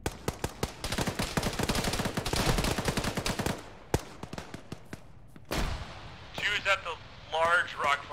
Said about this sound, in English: I stood up and that grenade went off